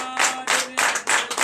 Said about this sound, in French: Donnez de l'acclamation de vie.